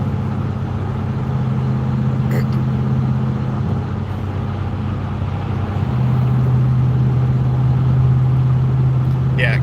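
A truck engine with a legal muffler idles close by, its loud, steady low rumble holding throughout and rising slightly in pitch partway through.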